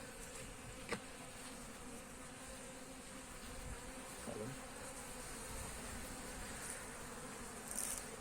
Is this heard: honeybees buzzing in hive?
yes